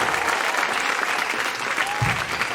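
A crowd applauds a guest named Grégory Gaillard at a praise concert, steady dense clapping filling the whole stretch at full, close volume, with a voice briefly rising over it.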